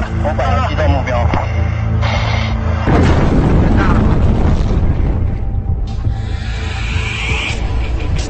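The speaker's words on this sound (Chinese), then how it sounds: "哇，炸了！ 炸了！" A missile striking a target ship at sea, heard as a loud booming blast with rumbling aftermath, while people shout excitedly over it.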